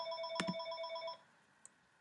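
Phone ringing with a short electronic ring burst, then cutting off, followed by a faint brief click in a quiet room.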